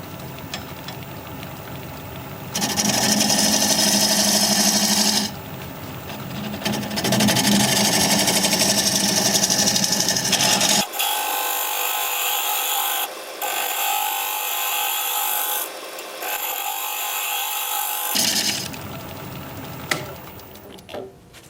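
A wood lathe turns the underside of a live-edge acacia piece, a loud steady whir with stretches of rough cutting noise as the tool meets the wood, broken by short pauses.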